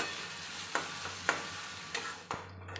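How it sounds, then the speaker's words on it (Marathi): Onion and tomato fry gently in oil over low heat, a faint soft sizzle broken by a few sharp spoon taps and stirring scrapes at irregular intervals. "कांदा आणि टोमॅटो तेलामध्ये मंद आचेवरती भाजून झालेला आहे"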